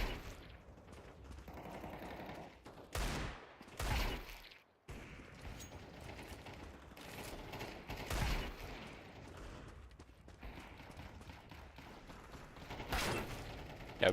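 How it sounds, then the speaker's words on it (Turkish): Shotgun blasts in a Counter-Strike deathmatch, heard as several sharp, loud bursts spaced irregularly, with a cluster around the early seconds and another near the end, over mechanical clicks and game ambience. "Tam pompalı oynuyor ölüm maçında ya."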